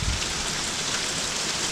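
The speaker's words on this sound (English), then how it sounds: "It's not a extremely hard rain. It's not a light rain." Medium rain falling outdoors on the ground in warm weather, a steady, dense hiss of drops that stays even and fairly close, with no talk.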